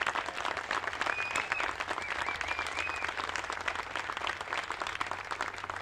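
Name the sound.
applause for Ray at museum opening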